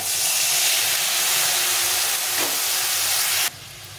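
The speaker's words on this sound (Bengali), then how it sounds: "দিয়ে একটু জল দিয়ে দেবো সামান্য কিছু।" A splash of water hitting cumin and chili powder frying with tomato for a fish curry sets off a loud, steady steamy hiss and sizzle that cuts off abruptly near the end, with no voices.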